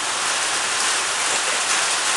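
Steady rain pours down on a wet, cold winter day near Lake Mulwala, a dense, loud, continuous hiss of drops hitting surfaces with no pauses and no voices.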